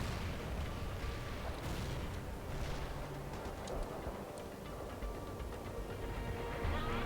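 Video game artillery firing in a sustained, dense roar of booming blasts and rumbling impacts, loud and continuous with no clear gaps, and no speech.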